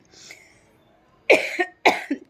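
A brief rough throat sound, then two loud, close coughs in quick succession, each ending in a short wheezy catch, from a sick woman with a hoarse voice.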